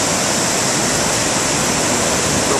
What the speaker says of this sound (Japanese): 濁流です。